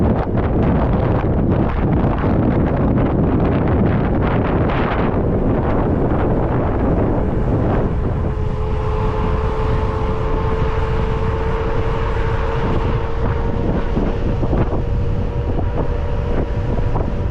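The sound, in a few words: wind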